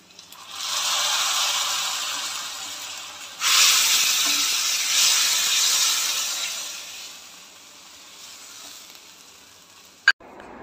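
Fried mustard seeds poured into a lime and date pickle, giving a steady hissing sizzle that swells, holds, then slowly fades, ending with a sharp clink.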